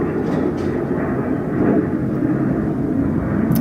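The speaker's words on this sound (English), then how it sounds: "another airplane." An airplane passes overhead as a continuous low, broad rumble that stays loud and steady throughout with no talk over it.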